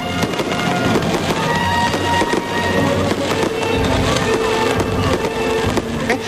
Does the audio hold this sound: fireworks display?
yes